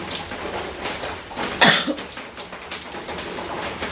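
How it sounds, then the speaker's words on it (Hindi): A woman gives a single sharp, close cough after drinking cold water, set against a quiet rainy-day background with faint distant sounds around it. "अभी ठंडा पानी पी के आई थी, इसलिए मैं खांसी थोड़ा सा हो गया है।"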